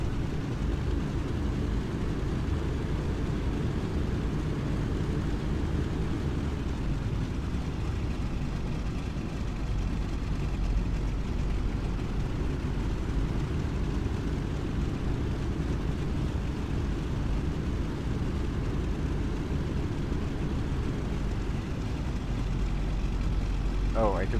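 Engines of a Boeing 377 in a flight simulator game drone on as a steady, loud, low rumble throughout, with a voice speaking over it.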